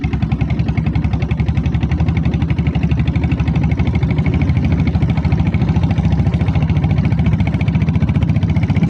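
A diesel Royal Enfield Bullet with a 7.5 HP self-start engine thuds along at a steady, rapid beat while being ridden, loud and close throughout with no voices.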